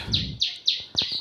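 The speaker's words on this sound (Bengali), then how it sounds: "পাখিদের ডাক শোনেন কত জোরে ডাকতেছে" Birds calling outdoors on a hot late morning: four sharp, loud, descending chirps repeat at an even pace, with faint rustling and a little background noise beneath them.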